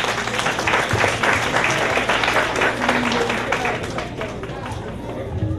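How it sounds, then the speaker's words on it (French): An audience at Handyfest 2016 claps and cheers in a sustained burst of applause, mixed with crowd chatter and voices, fading slightly toward the end. "Fait que même applaudissement pour vous tous."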